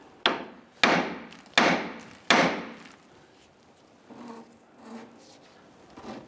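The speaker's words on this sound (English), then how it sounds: "I'm going to go ahead and strike the knuckle itself to release this ball joint from" Hammer striking the steering knuckle of a 1999-2004 Jeep Grand Cherokee to free a ball joint from the tie rod end: four sharp metallic blows in a quick, even series, then quieter scraping.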